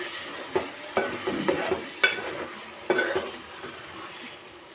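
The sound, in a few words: chicken simmering and frying in a pan with spices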